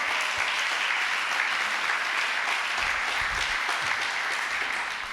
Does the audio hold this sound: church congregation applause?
yes